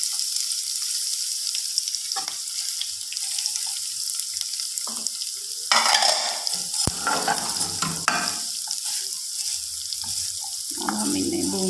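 Vermicelli roasting in a pan, a continuous hissing sizzle with scraping stirs and occasional knocks of the spoon, growing busier in the middle and heard close and alone.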